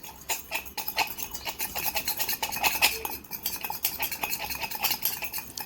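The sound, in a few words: stirring protein powder mixed with milk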